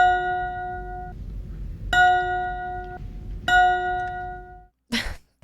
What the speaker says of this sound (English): That bell must get so annoying